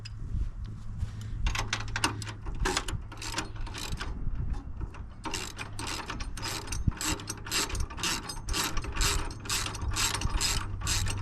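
Ratchet wrench removing four bolts from a caravan jockey wheel mount, fast repeated clicking bursts in close rhythm with short pauses between strokes, no talk.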